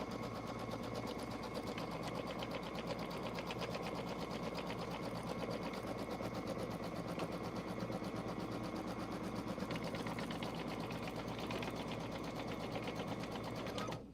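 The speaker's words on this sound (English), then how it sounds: "we're going to tack down our fabric" Domestic sewing machine stitching continuously as it tacks fusible-backed background fabric down for appliqué, a steady close mechanical whir with rapid needle clatter, uninterrupted throughout.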